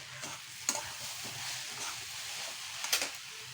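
Grated cauliflower frying in a pan with turmeric, chilli powder, coriander, cumin and Maggi masala for paratha filling, a soft steady sizzle with a few sharp stirring scrapes and clinks.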